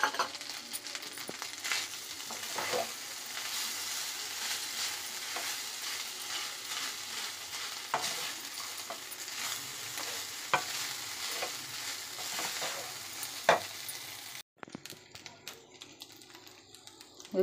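Grated carrot and rice are stir-fried together in a pan, giving a soft continuous sizzle broken by rapid clattering spatula scrapes and taps, close but quiet, ending in a brief drop to near silence.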